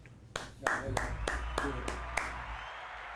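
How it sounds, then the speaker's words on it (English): Hand clapping from a single person during a podcast, roughly seven crisp, evenly spaced claps close to the microphone, with faint talk underneath. "Let me give a clap for her."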